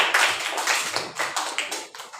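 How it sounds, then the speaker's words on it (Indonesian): Classroom applause for a classmate after a role-play, a dense, steady patter of many hands clapping close by for about two seconds with no voices. "Tepuk tangan lagi buat temanmu yang berperan."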